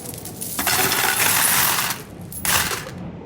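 Treasure coins clink and jingle loudly as they are dropped into sacks, a dense metallic shower that runs for over a second, pauses briefly, then bursts again, close and with no voices.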